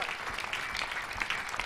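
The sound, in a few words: congregation clapping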